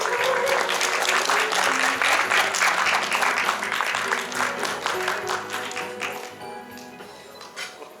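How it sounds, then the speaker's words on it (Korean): Audience applause fills a Sony Korea launch event for flagship Alpha cameras, a dense, loud wash of many hands clapping that gradually thins and fades toward the end. "큰 박수 부탁드립니다"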